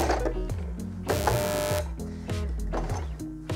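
A sewing machine stitches a tension test in bursts, with rapid mechanical chattering runs broken by a brief harsh hiss, close and fairly loud.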